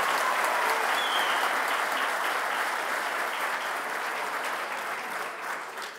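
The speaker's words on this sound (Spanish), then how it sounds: "Un aplauso para ustedes, que son realmente quienes lo merecen." Sustained applause from an audience at a meeting, a dense steady wash of many hands clapping that holds for the whole stretch and eases off slightly toward the end, with no talking over it.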